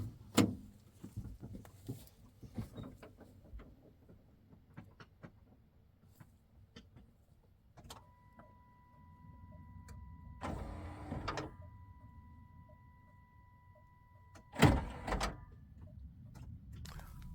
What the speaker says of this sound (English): so we got the new motors in the headlights. They going up and down, flipping up and down.